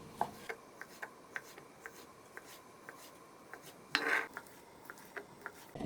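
A knife slices crab sticks on a board in a steady series of light, crisp taps, with one louder scrape partway through.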